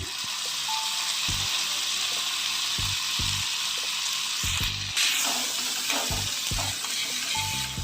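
Onions for pav bhaji frying in a pan, a steady sizzle broken by several distinct knocks and scrapes of a spatula stirring at irregular intervals.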